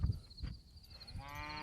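Cattle on a farm under high-density grazing, mooing faintly at a distance with a low lowing call rising near the end, over steady background hum and wind.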